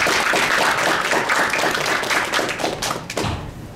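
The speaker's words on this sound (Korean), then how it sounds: "제가 한 번 호명할 때마다 뜨거운 환영의 박수 부탁드립니다" Audience applause welcoming a panelist at an aerospace future strategy forum in Korea, a steady dense wash of many hands clapping that fades slightly toward the end.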